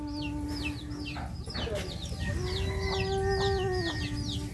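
Hens cluck and chatter in repeated short calls over a steady low rumble, with a few longer tonal cries mixed in; fairly close and continuous, at a homestead chicken coop on a Jamuna river island.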